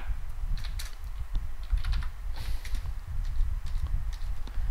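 A computer keyboard being used to enter a registration code into Express accounting software, a steady patter of close, light key clicks over a low background rumble.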